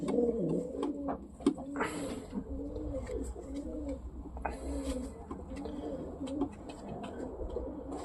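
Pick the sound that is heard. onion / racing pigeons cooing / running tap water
racing pigeons cooing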